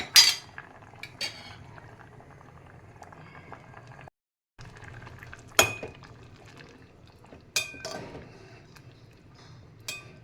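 Manathakkali (black nightshade) greens stirred in oil in a cooking pot, with scattered metallic clinks and scrapes of a utensil against the pot over a low, steady background.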